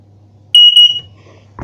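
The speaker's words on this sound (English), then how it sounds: "It's a little heat sensor and a smoke sensor." A mains-powered heat and smoke alarm in a house sounds a loud, piercing high-pitched beep during a test, a short burst of about half a second with a few pulses, then it stops and a low room hum returns.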